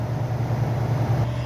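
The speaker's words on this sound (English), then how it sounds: "shot of the exhaust for the motor running." A 1994 Ford Windstar with a 3.8 engine idles at the exhaust, a steady low rumble heard close and alone for a brief moment.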